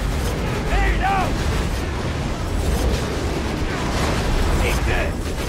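Heavy explosive bursts and rumbling blasts from the video game Borderlands 2, loud and sustained, with shouted in-game character voices cutting in briefly over the din.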